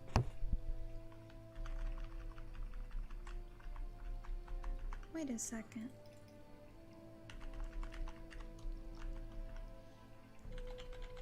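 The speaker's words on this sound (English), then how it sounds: "Also, sorry for the typing." Keys clacking on a computer keyboard in steady bursts of typing, close and fairly quiet under a low background hum, with a brief spoken remark near the start.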